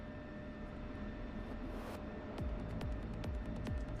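A fighter jet taxis in the DCS flight simulator, a steady low engine drone under faint hiss, with several sharp descending whooshes passing near the end.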